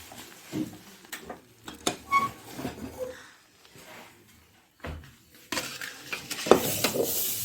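Grated coconut stirred little by little into a pan of kamarkattu sweet mixture with the gas off, giving soft scraping strokes and light clinks of spoon on pan, intermittent and close, with a brief louder scrape near the end.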